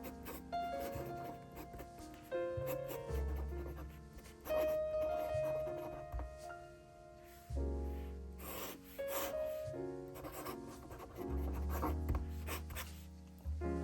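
A fountain pen with a wet nib scratching across paper, with continuous close strokes in short bursts and brief pauses between them, no talking.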